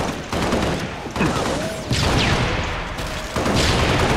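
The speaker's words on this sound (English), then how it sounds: "Was that a grenade or a rocket launcher?" Grenade or rocket blasts in the game Halo Reach, a dense run of loud booming bursts and rolling gunfire layered together, close and heavy with several distinct impacts.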